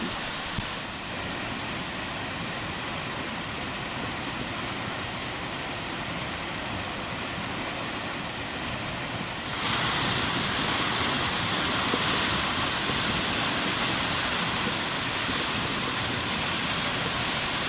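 Seljalandsfoss waterfall in Iceland roars as a constant, dense rush of falling water heard up close, swelling louder partway through as the path leads behind the falls.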